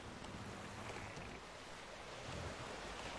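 Boat gliding over open water in The Witcher 3, with a steady wash of waves and wind noise, faint and even, with no voices.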